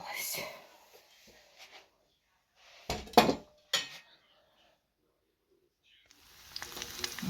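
Dishes and cutlery clatter at home while breakfast is cooked, with soft clinks early on, a loud burst of clanking midway, then a running, sizzling wash near the end; otherwise quiet.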